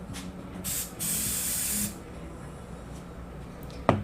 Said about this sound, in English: I have this very nice non-stick spray